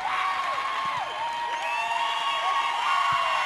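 Crowd at a 2012 girls' state volleyball championship match, Auburn vs Luray, keeps up a loud, continuous roar of cheering and shouting, with scattered sharp high squeaks and whistles cutting through.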